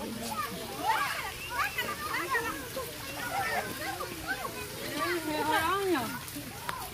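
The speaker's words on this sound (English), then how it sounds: "They also have a water place for the kids to play." Children splash and play in a water play area at a botanical garden, with close splashing and sloshing mixed with lively children's voices and chatter throughout.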